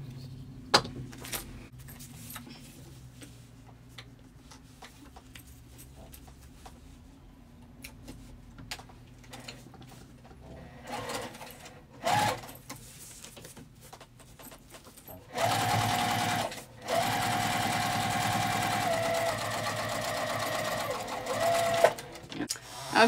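A sewing machine top stitches across a vinyl zipper pouch in a quiet room, giving a faint ticking run early and a louder sustained run of stitching near the end, with a voice speaking at times.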